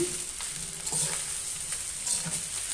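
Chicken fried rice made with broken rice is gently stirred in a pan, a soft sizzle under a few light scraping strokes of the spoon, steady and close with no talking.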